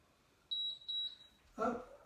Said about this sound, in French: on attend le bip